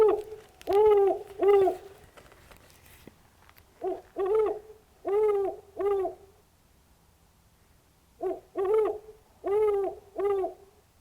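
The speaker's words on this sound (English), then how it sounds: "I love that sound of the great horned owl" A great horned owl hoots at night at Crystal Cove in three clear bursts of four or five deep, evenly spaced hoots each, separated by quiet pauses, fairly close and with no other sounds over it.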